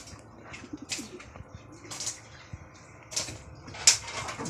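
A racing pigeon coos softly after returning from its final lap, with low murmuring calls and a few sharper rustles and clicks nearby.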